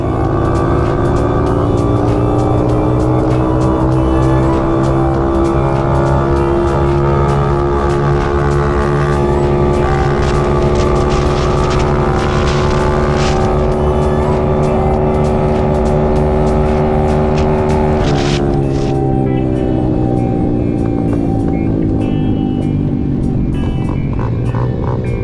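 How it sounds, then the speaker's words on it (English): Small dirt bikes riding, a steady loud engine drone with shifting pitch that rises and eases as the bikes move, with a brief drop in revs near the end and no talking. "I'm really amazed how good these little dirt bikes perform."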